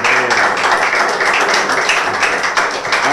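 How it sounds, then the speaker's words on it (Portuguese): An audience applauds a fighter named Pesadelo as he is announced at a BMS gladiator event, a loud, dense and sustained clatter of many hands that stays close and even for the whole span. "Aplausos, pessoal."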